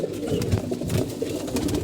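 A mati pigeon coos in low, throaty rolls, with several overlapping coos running continuously close by and no talk.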